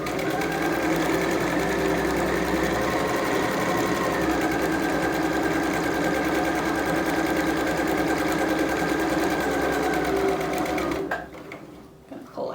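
A sewing machine stitches a seam on a fabric face mask, running as a steady close whir with rapid needle chatter for about eleven seconds before stopping, followed by faint handling noises.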